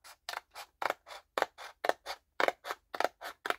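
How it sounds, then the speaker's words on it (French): Scissors snip through paper along a dotted line, about fifteen short, crisp cuts in a quick steady rhythm, close up with no talking. "je vais couper selon les pointillés"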